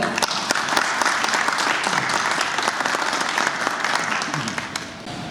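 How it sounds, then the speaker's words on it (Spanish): An audience at a poetry lecture welcomes the speaker with warm applause, a continuous close, full-bodied clapping that stays steady and loud for the whole stretch, with faint voices beneath it. "recibimos con cálidos aplausos"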